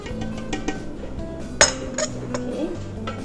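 A spatula scrapes down the inside of a Thermomix TM6 mixing bowl, giving a few light clinks and scrapes, including one sharper knock, over a low steady machine hum.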